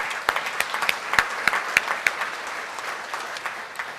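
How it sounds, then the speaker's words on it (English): Steady applause from people at a Rotary club meeting fills the room, with dense clapping and a few sharper individual claps standing out, and no talk over it. "Let's give them all a round of applause"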